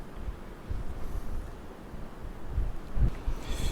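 Gusty wind buffets a microphone on a windy south coast beach, a low rumbling roar that swells and surges in uneven blasts, loudest near the end.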